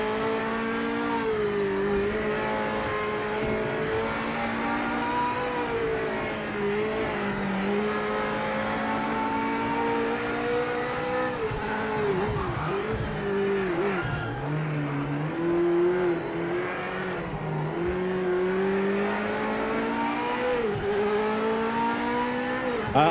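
Toyota Supra GT500 race car in Project Motor Racing, a high-revving engine drone rising and falling through gear changes, with brief dips and surges as it brakes and accelerates over a sustained lap.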